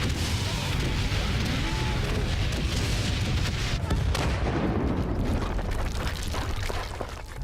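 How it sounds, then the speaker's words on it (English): Gunfire and artillery in the World War I video game Valiant Hearts, a dense continuous barrage of booms and shots that stays loud throughout, then eases slightly near the end. "Oh, it's like someone's opening guns?"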